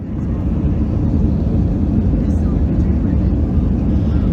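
Airplane on its takeoff from Sioux Falls on a snowy April day, heard from inside as a loud, steady broadband roar of engines and rushing air that holds continuously throughout.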